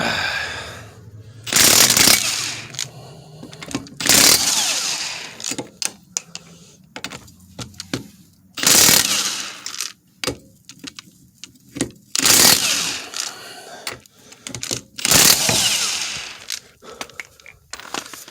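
Cordless power tools, Cobalt, Husky and Milwaukee, loosening lug nuts to remove a rear wheel on a 2006 Honda CR-V outdoors in the cold, with repeated loud short impact bursts separated by pauses and quieter handling clatter.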